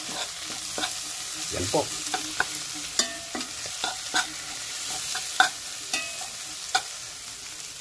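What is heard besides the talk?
stirring and frying banana heart sisig in a pan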